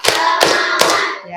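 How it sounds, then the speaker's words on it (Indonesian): Children in a group clapping chant give three sharp, loud hand claps in an even, steady rhythm, with a sustained vocal tone running underneath throughout. "Tepuk 1, tepuk 2, tepuk 3."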